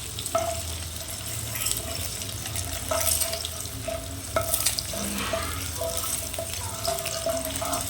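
Eggs stirred while frying in a pan for egg curry, with steady sizzling and repeated scraping stirs close by, continuous and fairly loud, no voices.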